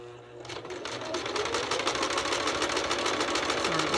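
A sewing machine runs steadily and close up as it stitches a seam on a fabric face mask, its motor a continuous whir that starts after a brief pause and holds at slow, even speed with no talking.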